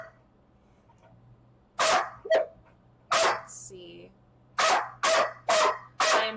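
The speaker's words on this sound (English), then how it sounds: "I am so sorry about the barky dog." A dog barks in loud, sharp bursts, roughly eight barks spread in clusters across the clip, close by, with people talking around them during a tabletop role-playing game session.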